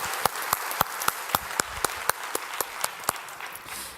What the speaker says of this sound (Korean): 하나님께 감사와 영광의 박수 올려드리겠습니다